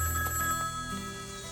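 A payphone rings with a steady electronic bell tone, moderately loud and close, over a short stretch with no talk.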